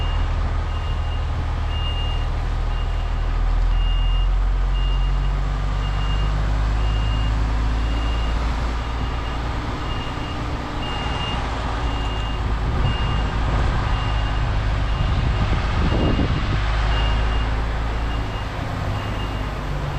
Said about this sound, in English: what I'm going to do is reverse it straight down so I can pull straight out then.